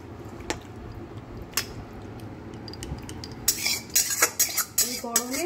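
Thin fish curry with taro is tipped out of a pan, heard as soft sloshing followed by a burst of metal spoon and pot clatter and scraping near the end, close by.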